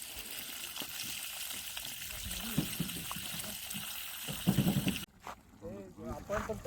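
Water gushes from a pipe fed by a newly fitted pump on a well at a brick kiln, making a continuous rushing splash for most of the clip before it drops away, while people talk nearby.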